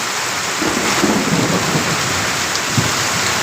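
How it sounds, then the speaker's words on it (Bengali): Heavy rain pours steadily in Mohanganj, Netrokona, close and loud, with low rumbles of thunder rolling underneath. "প্রচুর বৃষ্টি এবং বিদ্যুৎ চমকাচ্ছে"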